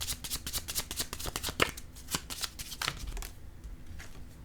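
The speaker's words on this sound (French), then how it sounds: "je vais déposer une carte sur l'enfant" Cards handled during a card reading, a rapid run of crisp flicks and slaps as the deck is shuffled and a card laid down, close and fairly loud, fading into quieter handling at the end.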